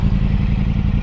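A motorcycle rumbles loud and close in a steady low chugging drone with rattling clatter for about a second, no speech over it.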